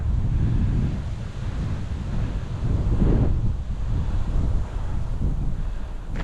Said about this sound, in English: We've got a westerly wind blowing there